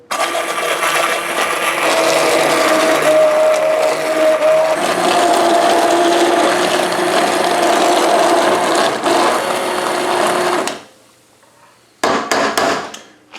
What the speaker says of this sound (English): We're going to turn on our blender.